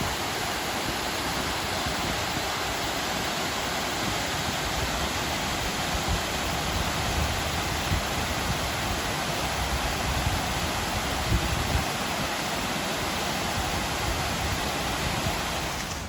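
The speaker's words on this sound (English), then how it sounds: "The cascade runs right alongside the path all the way down." A small cascade runs alongside a woodland path near a nature center in Connecticut, giving a loud, unbroken rushing of falling water that stays even from start to finish, close by and alone.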